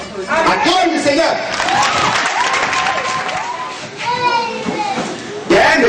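A church congregation at a worship service cheers, shouts and claps together in praise of the Lord, a loud, dense swell of many voices that surges again near the end.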